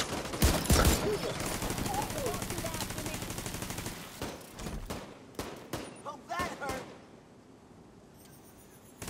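An automated turret in the shooter game The Division 2 fires a loud, rapid stream of gunfire for about four seconds, then breaks into scattered bursts and single shots while voices talk over the fight.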